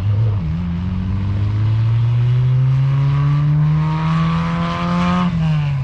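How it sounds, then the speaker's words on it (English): A Class 5 bug off-road race car at a desert race holds a loud, close engine note that climbs steadily in pitch, then drops sharply as it shifts gear before climbing again. "Oh yeah, nice clean smooth shifts."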